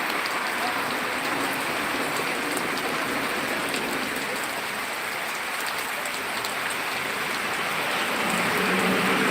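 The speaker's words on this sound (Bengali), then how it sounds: "দেখুন সুন্দর একটি দৃশ্য বৃষ্টি হওয়ার" Steady rain pours down in a continuous, even wash of dense patter, loud and close, with no voices over it.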